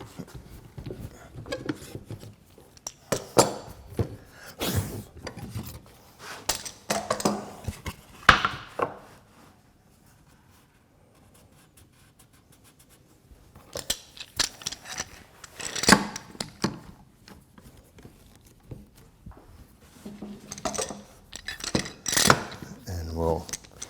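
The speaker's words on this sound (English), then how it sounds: "let's unclamp this guy and flip him." Clamps are loosened and a wooden rafter tail table top is flipped in a woodshop, giving scattered clanks, knocks and scrapes in bursts with a quiet pause in between.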